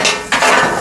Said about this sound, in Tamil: கேட்குதா கொத்து சத்தம் கேட்குதா?